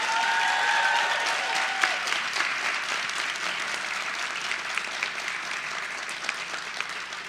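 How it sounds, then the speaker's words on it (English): A conference crowd claps for a design team during a keynote on health-based design; sustained, even applause fills the room without voices. "Can we have a special round of applause for Devin Sigmund"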